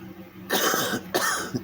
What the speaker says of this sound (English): If I can quit coughing.